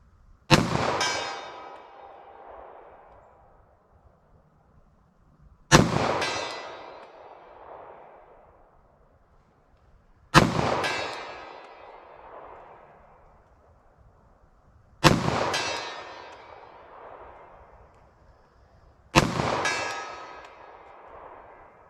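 Five loud, widely spaced 9mm and .45 ACP pistol shots at an outdoor range, each striking a steel target that rings out with a long, fading metallic clang before the next shot.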